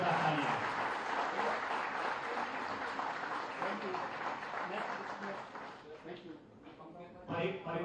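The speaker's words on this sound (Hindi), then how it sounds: "जोरदार तालियां।" A crowd claps steadily at an appointment letter ceremony in Dehradun, a continuous moderate wash of applause mixed with voices and hall ambience, thinning briefly near the end before resuming.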